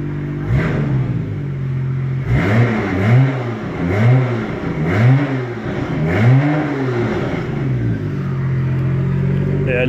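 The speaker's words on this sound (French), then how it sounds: "la moindre sollicitation de la pédale de gaz, bah, elle prend ses tours, c'est impressionnant." A car engine revs up and drops back in four or five rising and falling sweeps each time the gas pedal is pressed, fairly loud and close, after a brief opening blip.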